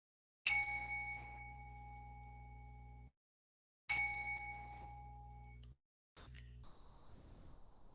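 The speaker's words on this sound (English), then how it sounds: "enjoy two sounds of the bell" A meditation bell is rung at the opening of a livestream, two clear ringing strikes, each with a bright sustained tone that decays slowly over a few seconds before a final partial strike, with a low hum beneath.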